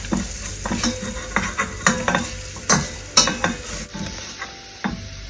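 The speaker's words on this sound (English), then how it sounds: "Now our rasam powder is getting roasted" Rasam powder sizzles and roasts in a pan while a spoon stirs it, with repeated scraping knocks against the metal at an uneven rhythm over a soft, steady frying hiss, close up and with no voices.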